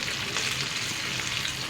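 Restaurant-style coated chicken wings fry in hot oil, giving a continuous close, crackling sizzle that stays loud and even throughout.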